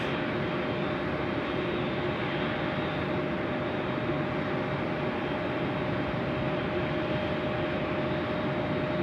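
Steady, loud broadband roar of jet aircraft engines at Sydney Airport at night, a constant unbroken rumble that holds at the same level throughout with no voices.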